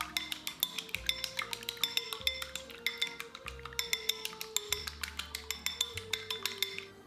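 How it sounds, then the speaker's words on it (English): A large egg beaten in a bowl for sealing Filipino lumpia spring roll wrappers gives quick, steady clinks of a utensil against the bowl, close and crisp, over continuous background music. "Beat 1 large egg for sealing wrappers."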